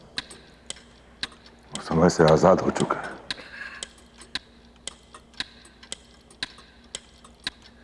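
A clock ticks steadily at about one tick per half second, crisp and close, continuing evenly while someone speaks briefly over it.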